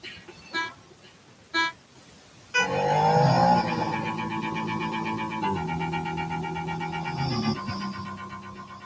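A racing video game car gets going after a few short clicks, its engine droning and revving steadily and loudly with shifting pitch, with no voices over it.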